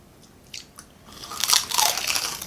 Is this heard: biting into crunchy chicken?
yes